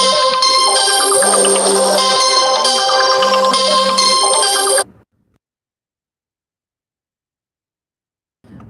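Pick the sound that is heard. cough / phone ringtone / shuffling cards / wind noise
phone ringtone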